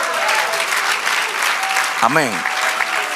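Congregation applauding loudly at a church service, steady dense clapping throughout with a voice calling out briefly partway through.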